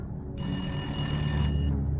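A telephone rings inside a phone box in the Safecracker video game, a single bright electronic trill lasting over a second against a low background hum.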